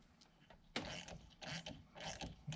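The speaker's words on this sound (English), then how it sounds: "He's going to turn that bolt." A ratchet wrench turns the bolt holding the SLS suspension strut at its top mount on a Mercedes-Benz W124, giving several short bursts of clicking, close and fairly clear, with pauses between the pulls.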